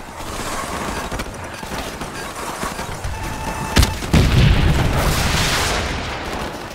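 A Javelin missile launching in Call of Duty Modern Warfare, a loud dense roar that peaks in a heavy boom before tailing off, layered over busy battlefield noise.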